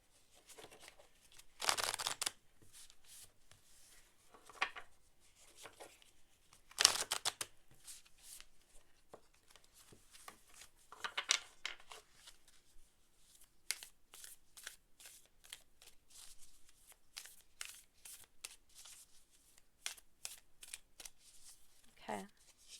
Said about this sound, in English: Whoops, bad shuffle.